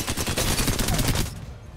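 The Alternator SMG fires in the Apex Legends video game, a loud rapid burst of automatic gunfire lasting about a second and a quarter before cutting off.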